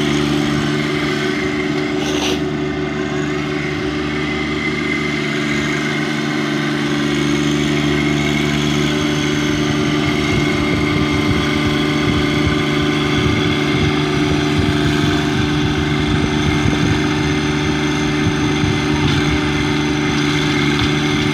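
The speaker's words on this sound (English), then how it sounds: "rototilling." A John Deere 1025R compact tractor drives a Kuhn EL23 rototiller, its engine droning steadily at mid pitch with the tiller churning soil underneath, loud and close for the whole stretch with no talk.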